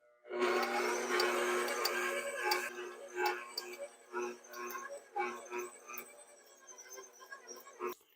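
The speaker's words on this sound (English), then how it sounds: "Then speed your mixer up to about a medium speed." A stand mixer kneads dinner roll dough at medium speed, making a rhythmic whirring motor hum with repeated knocking pulses that grow more uneven toward the end.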